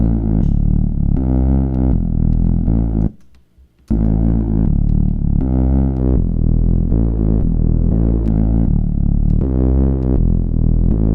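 A Reese bass synth patch in Xfer Serum, with the chorus turned off, plays loud sustained detuned low notes in phrases, broken by one short gap of near silence.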